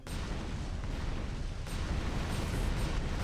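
Egg bomb explosion skill from the video game Phantom Dust: a dense, continuous roaring blast with heavy low rumble, loud and unbroken for the whole span, with no talk.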